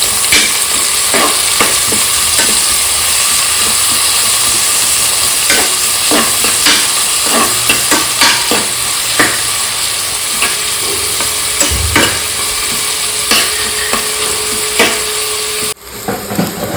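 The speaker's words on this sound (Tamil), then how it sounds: "வெங்காயத்தை நல்லா வணக்கிக்கலாம்." Onions fry in a pan while being stirred, a steady close sizzle broken by frequent scraping clicks of the spoon against the pan, continuous and fairly loud with no talking.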